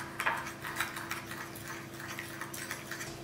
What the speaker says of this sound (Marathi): आनी हे स्टर करून मिक्स करूया.